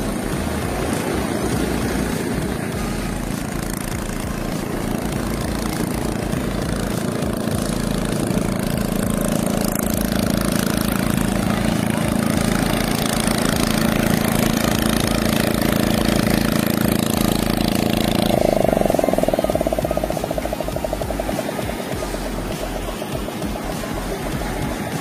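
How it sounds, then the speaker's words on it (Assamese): A tractor engine drones loud and continuous while hauling a fishing boat ashore on a sea beach, its pitch shifting briefly near the end before settling back into a steady rumble. "টানি উঠাব ইয়াত ট্ৰেক্টৰ লগাইছো"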